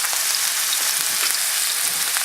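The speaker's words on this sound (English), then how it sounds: "Going to the skillet. We got a little lard in there." Lard sizzles steadily in a skillet over a camp cooking setup, a continuous close hiss with faint pops and crackles and no voices.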